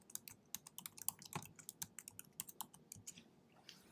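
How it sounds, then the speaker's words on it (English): Quick, soft clicking of a computer keyboard as a folder name is typed, irregular keystrokes in a steady burst, close and quiet. "I'm going to type in the name Composition Project"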